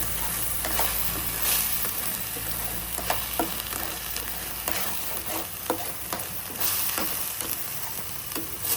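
Tomato and onion frying in oil in a pan while being stirred, a soft continuous sizzle broken by repeated scraping spoon strokes, close and alone with no speech.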